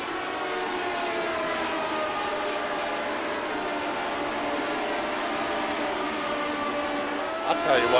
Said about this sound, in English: I love the sound of these cars, too. They are just absolute screamers.